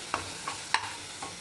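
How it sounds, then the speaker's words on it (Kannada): Masala being stirred in oil over a low gas flame, with a few distinct scraping strokes of the spoon over a constant soft sizzle. Close by, no talking. "ಈಗ ಚಂದ ಎಣ್ಣೆಗ ತಿರುವಾದು"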